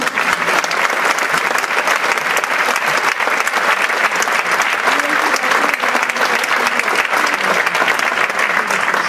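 Sustained applause from a large audience at a New Year's concert at Kursaal Manresa, dense steady clapping throughout with no pauses, loud and close.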